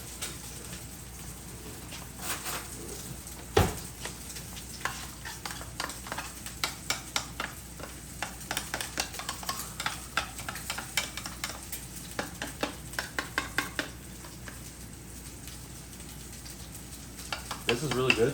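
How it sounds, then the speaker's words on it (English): A spoon stirs chimichurri for a steak sandwich, giving soft, irregular scraping and clicking strokes that cluster mid-clip and again near the end, faint and close, with no talk over them. "I'm gonna use a spoon to mix this up"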